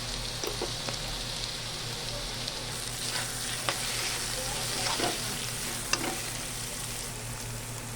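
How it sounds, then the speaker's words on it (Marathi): Chili, ginger and garlic paste frying with onions in a pan, giving a steady close sizzle with a few sharp pops and light stirring scrapes. "आता मी ह्यात लाल कांदा झाल्यामुळे मिरची आलं लसूण पेस्ट टाकत आहे"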